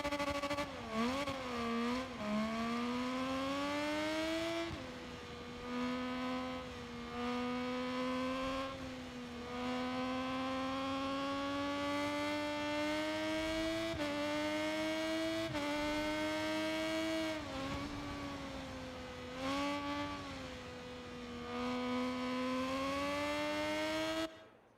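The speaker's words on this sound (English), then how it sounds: "the engine was spot on that Triumph" A Triumph motorcycle engine in the racing game RIDE 6 whines at high revs, pitch rising and falling through gear changes and braking dips, loud and continuous for about twenty-five seconds.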